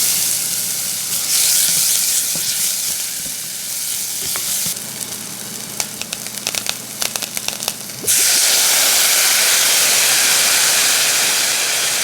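Sauce for mushrooms sizzles loudly in a hot pan, a dense frying hiss with a stretch of sputtering, crackling pops in the middle before the steady roar swells back up.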